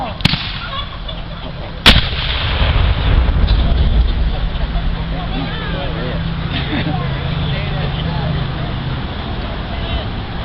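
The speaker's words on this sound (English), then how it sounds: "Gun 1, fire!" Civil War reenactment artillery battery cannon fires with a single sharp, loud report, followed by a long rumbling roar and crowd murmur as people talk nearby.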